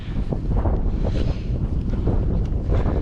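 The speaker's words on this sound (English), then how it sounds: "A little bit windy, which is quite nice because it's hot." Steady, loud wind buffeting a microphone outdoors on a mountain scramble, a continuous low rumble with gusty swells throughout and no voices.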